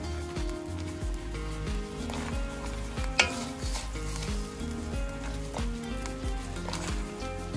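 Green curry masala frying in coconut oil, a steady close sizzle running throughout with a few scraping stirs and one sharp clink of a utensil against the pan.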